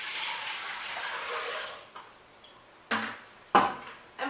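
Maple sap is poured into a container in a steady liquid stream that stops after about two seconds, followed by a few sharp clunks and splashes as the vessel is handled, close and moderately quiet.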